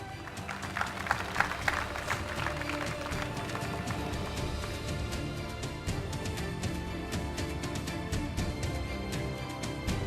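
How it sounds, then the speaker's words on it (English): Audience applause at an entrepreneur of the year award ceremony in Sri Lanka, a dense steady patter of many hands clapping with some louder bursts early on, over a busy hall background with music-like tones. "Let's put our hands together and give these gentlemen a round of applause."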